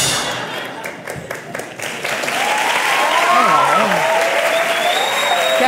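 Loud audience applause following a comedian's monologue, a dense burst of clapping that swells and holds, with a voice talking over it and shouts rising from the crowd.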